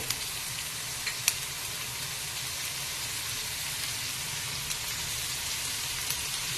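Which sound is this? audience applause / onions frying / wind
onions frying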